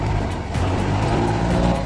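Toyota mini dump truck on a road test, braking hard: a loud, close, continuous rumble of engine and road noise with low rough pulsing throughout.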